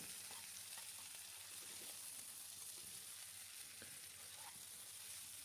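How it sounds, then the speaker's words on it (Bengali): Cauliflower fries in a pan with turmeric and spices, producing a faint but continuous sizzle with occasional soft stirring scrapes and no talking. "হলুদ গুঁড়াটা দিয়ে আর একটু নেড়ে চেড়ে মশলার সাথে ভেজে নেব"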